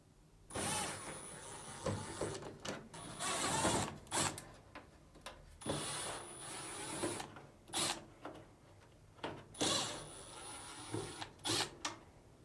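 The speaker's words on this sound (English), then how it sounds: "Now, remove these 4 Phillips screws." A power screwdriver backs Phillips screws out of the top panel of a Samsung dryer, with several short whirring bursts separated by pauses and light handling clatter, close and fairly quiet.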